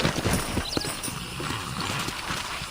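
Horse hooves clip-clop at a steady pace on a ranch in Red Dead Redemption, rhythmic hoofbeats over a soft game ambience with no talking.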